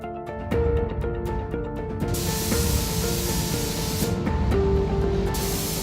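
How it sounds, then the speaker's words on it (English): Spray gun hissing as a vintage Ameise forklift gets a fresh coat of yellow paint, a steady close hiss starting after a short pause and running on with slight surges, no voices. "The vintage forklift is getting a fresh coat of paint."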